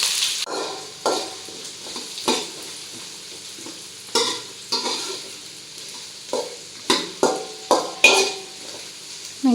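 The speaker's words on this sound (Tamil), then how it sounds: "வெங்காயமும் கருவேப்பிலும் போட்டிருக்கீங்க." Onions and curry leaves fry in oil while a ladle stirs them for a naatu kozhi fry: a steady sizzle broken by about a dozen sharp scraping strokes against the pan, close and clear with no talk.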